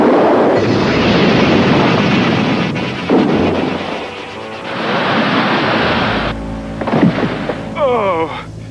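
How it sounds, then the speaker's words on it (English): A cartoon torpedo strikes a lifeboat at sea, giving a long roaring blast with rushing surf-like noise that swells, dips and surges again, followed by a few brief vocal sounds near the end. "That explosion cut a gash in the hull."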